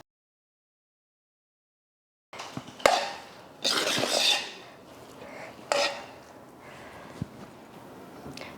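Brinjal tamarind kuzhambu is being stirred into a large batch of cooked rice in a pot, heard as a few scraping, thudding spoon strokes with pauses between, starting after a stretch of silence.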